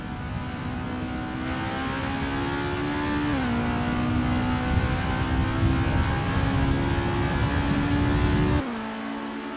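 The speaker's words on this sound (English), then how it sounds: "The rumble of the engine" A racing car engine from a racing video game, the Westwood 1988 circuit, droning steadily at high revs with a brief shift in pitch partway through, loud and continuous, then cutting abruptly near the end.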